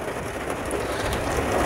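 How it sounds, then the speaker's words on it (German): Heavy rain falls during a thunderstorm around a camper van, making a dense, steady hiss at a constant level. No distinct thunder or voices stand out. "als hätte der Regen sich gerade vom Donner erschreckt"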